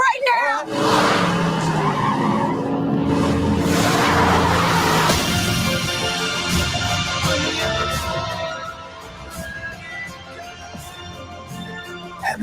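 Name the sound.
car driving off with skidding tires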